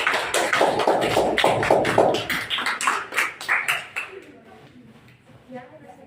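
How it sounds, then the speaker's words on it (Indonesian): Applause from a classroom audience for a presenting student group, a burst of dense clapping that thins into scattered claps and fades out within a few seconds. "Berikan aplaus dulu sebelum saya terus."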